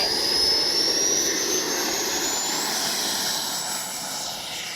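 An FMS 80mm F-86 Skyblazer RC jet flies past with a loud, steady turbine whine and rushing roar, its pitch sliding upward as it passes and holding fairly close throughout, with no voices.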